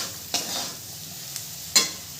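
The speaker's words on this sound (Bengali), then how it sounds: "ম্যাগি মশলাটা দিয়েও ভালো করে আমি মিশিয়ে নেব।" Chire polao (flattened rice pilaf) is stirred with Maggi masala in a pan: two distinct scraping strokes over a soft, steady sizzle, heard close with no talking.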